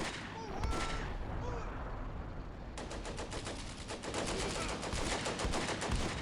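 Sustained gunfire in the Combat Mission: Beyond Overlord wargame, Riesberg scenario: a dense, continuous crackle of small-arms and machine-gun bursts that intensifies into rapid, repeated volleys partway through, loud throughout with no talk.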